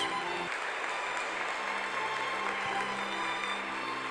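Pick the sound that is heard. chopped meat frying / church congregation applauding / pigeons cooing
church congregation applauding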